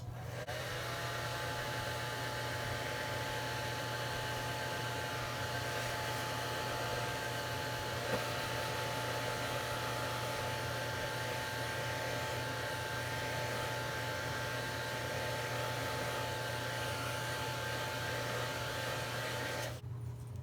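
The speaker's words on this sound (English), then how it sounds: "And I just use my hair dryer." A handheld hair dryer blows steadily on a sheet of paper being dried for a junk journal craft, a continuous loud whooshing hum with a faint motor whine that runs unbroken for about twenty seconds and cuts off abruptly at the end.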